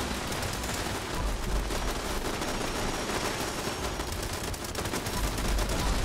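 Automated turrets in the video game Fallout 76 fire continuous rapid bursts at an enemy, a dense, harsh rattle of gunfire that holds steady and fills the whole stretch at moderate level.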